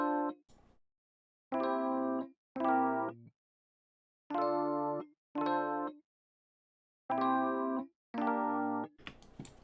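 Chord hits play in repeating pairs alongside low repeated bass notes in a jazz beat. The short bright chords are separated by silences, and a noisy burst comes at the very end.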